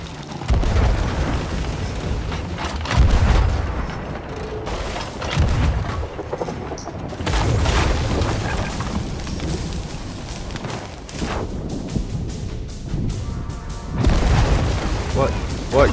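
Thrown bombs burst in a series of loud, deep booms and rumbling blasts spread across the scene, mixed with clatter and chaotic noise, with people talking and shouting throughout.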